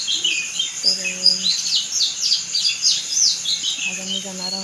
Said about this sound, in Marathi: येते ऐकायला पक्ष्यांचा आवाज.